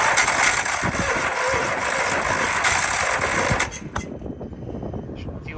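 A Ferris IS3200Z zero-turn mower with a fuel-injected engine that starts hard, running loud and rough for several seconds before the sound drops abruptly and a lower, uneven rumble carries on.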